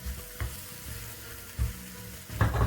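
Mango pieces and green chilli being tossed into hot spiced oil for Kerala-style mango pickle, with a soft steady sizzle and a few louder bursts as the pieces hit and get stirred, no voices.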